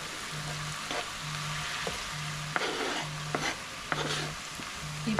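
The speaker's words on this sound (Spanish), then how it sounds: "Esto pues ya les voy a agregar lo que es el jitomate y la cebolla." Nopales fry with tomato and onion in a pan, giving a steady loud sizzle broken by regular scraping stirs at about one per second, close up.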